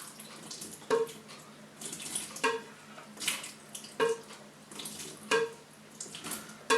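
Liquid pours and splashes steadily into homemade blackberry wine, with soft clinks at regular intervals, fairly quiet and close, with no talking.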